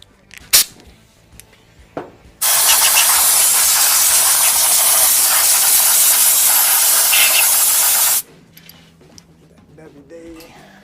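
Compressed air blasting into the seized carburetor linkage of a 1967 Mercury Commuter wagon, one steady loud hiss of about six seconds with a few small clicks and clanks before and after.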